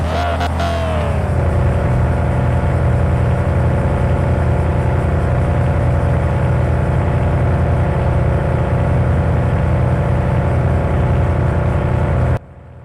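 A car engine in a video game runs steadily and loudly throughout, with a brief revving rise at the start, then a constant droning hum until it cuts off abruptly near the end.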